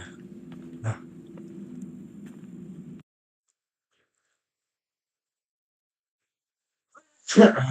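A single sharp sneeze bursts out loud and close near the end, after several seconds of silence, preceded by muffled talk over a steady low hum.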